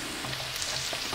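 Food fries in a pan with a dense, steady sizzle and faint crackles, close and alone.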